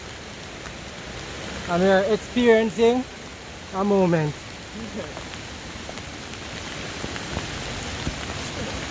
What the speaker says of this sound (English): And now the rain starts fall heavy.